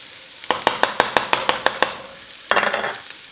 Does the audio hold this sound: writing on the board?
no